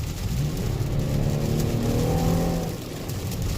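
A Mitsubishi Outlander with AWC accelerates under heavy throttle on a wet road, its engine note climbing through the rev range from inside the cabin over a wash of road and rain noise, then easing off near the end.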